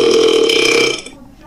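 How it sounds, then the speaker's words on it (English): A loud, close burp from an orange cartoon character in class rumbles for about a second and then cuts off into near silence. "how dare you burp in class"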